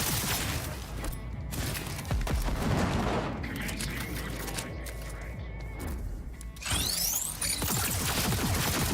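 Bursts of automatic gunfire aimed at a robot in Cyberpunk 2077, rapid loud rattling volleys broken by short gaps, with mechanical clanks and a sharp impact near the end.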